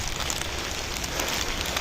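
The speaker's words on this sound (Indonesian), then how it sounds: "Ini hujan, takut kamera kena air" Rain falls steadily on an outdoor campsite, a dense, even hiss of drops pattering on surfaces close by, with no talk.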